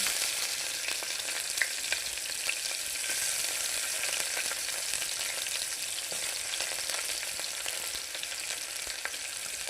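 Curry leaves and onions with dried red chillies fry in a pan for a bottle gourd and chana dal curry, giving a steady, dense crackling sizzle with small pops throughout, close and without talk.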